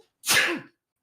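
A single sharp human sneeze, close and loud, in a quiet room during a casual podcast chat, abrupt burst then silence.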